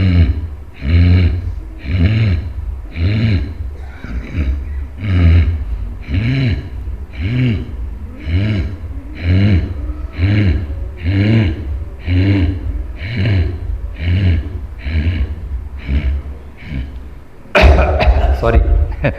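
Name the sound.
short rapid pranayama breaths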